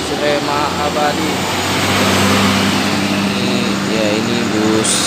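A Rema Abadi intercity bus from Java at Pekanbaru terminal, its engine a steady loud rumbling drone throughout, with someone talking over it.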